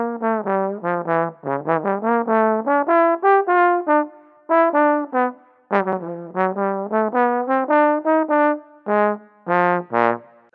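A tenor trombone plays a swung jazz etude at half speed, a sequence of clear sustained and detached notes with short gaps between phrases and no talking.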